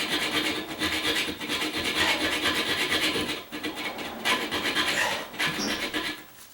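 A hand hacksaw cutting in short quick strokes while someone installs a toilet, making a continuous close rasping scrape with a brief break midway.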